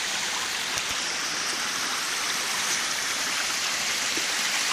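A thin trickle of water runs at a waterfall-geyser beside rocky cliffs, making a steady, close, hissing splash that holds evenly throughout, with no voices.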